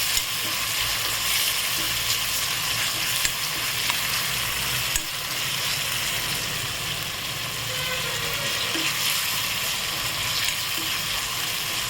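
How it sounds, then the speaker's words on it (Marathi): Chopped onion sautéing in a hot pan for a goat trotter soup gives a steady, dense sizzle that stays loud and even throughout, with no voices. "त्यानंतर कांदा परतून घ्यायचा। मला छान भाजून घ्यायचं।"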